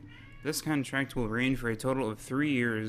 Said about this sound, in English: Oh, excuse my cat in the background.